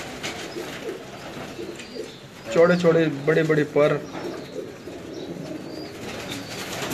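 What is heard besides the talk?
Sialkoti pigeons cooing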